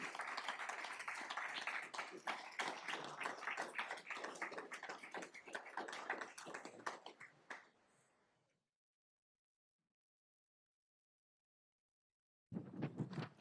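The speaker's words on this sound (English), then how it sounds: "Let's give them a round of applause." An audience applauds at a school board meeting, dense steady clapping for several seconds that thins and fades out, then stops, with a brief burst of sound returning at the end.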